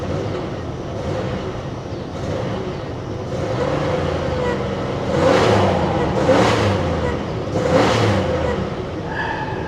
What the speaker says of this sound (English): When you first hit the gas, she cuts out.